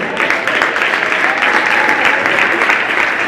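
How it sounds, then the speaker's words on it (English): A crowd at a high school boys' varsity basketball game applauds steadily, a dense wash of clapping that stays loud and even throughout. "Let's give a big warm-hearted great round of applause to our 2021 senior cheerleaders and basketball players"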